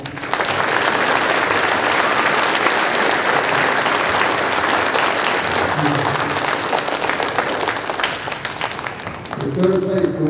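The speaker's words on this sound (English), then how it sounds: "Let's give them a nice round of applause." Loud, dense applause fills a school Veterans Day assembly as students are honored, a crowd clapping close and steadily before tapering slightly near the end, with some voices mixed in.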